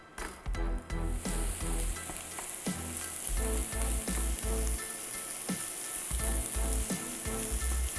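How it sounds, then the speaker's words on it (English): Crumbled sausage fries in leftover bacon grease in a pan, making a loud, continuous close-up sizzle and hiss with light background music underneath. "I can use the residual grease to cook the sausage"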